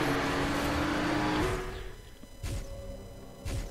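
GT1 race cars in the video game Race Driver Grid roar along an endurance circuit, a loud engine whine holding pitch then shifting, followed by quieter stretches broken by two sharp bursts of cars sweeping past.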